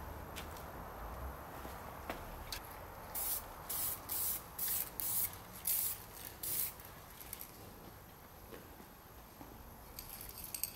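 Spray paint hisses from an aerosol can onto the body of a Volvo 480 Turbo, about eight short close bursts in an even rhythm after faint handling noises, ending with a quieter rattle.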